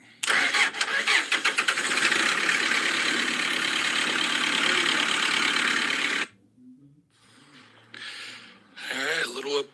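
A car engine started with a jumper wire cranks and catches, running loud and close for about six seconds before cutting off, followed by faint clatter and short bursts of noise.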